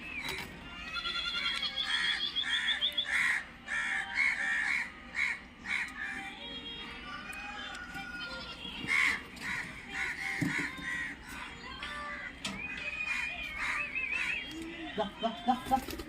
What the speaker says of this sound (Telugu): ఈ కాకులు ఫుల్ డిస్టర్బెన్స్ నాకు.